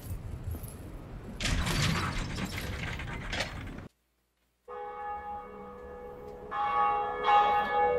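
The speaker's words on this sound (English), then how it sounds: "Let's go ring this bell." In a video game at Sen's Fortress, a heavy mechanism grinds and ratchets loudly, falls silent, then a bell rings out with sustained, resonant tones that swell toward the end.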